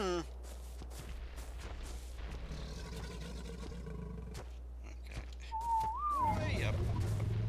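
ARK game whistle for a follow command, a short rising-and-falling whistle near the end, heard over in-game roaring creatures and a low constant rumble.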